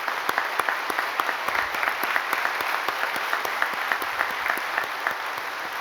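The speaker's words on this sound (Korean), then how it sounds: "다시 한 박수로 축하하겠습니다." A church congregation applauds during a service honouring a retiring senior pastor, with steady crowd clapping and distinct sharp individual claps standing out throughout.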